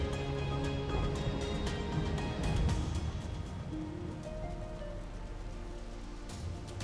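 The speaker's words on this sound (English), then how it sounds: "It's raining up here." Rain falling in the video game Final Fantasy XIV, a steady patter on surfaces mixed with game music and ambient tones, continuous and even throughout.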